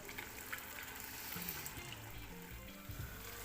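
Whole spices fry in a pan with a steady, faint crackling sizzle, holding constant for a few seconds without any voices.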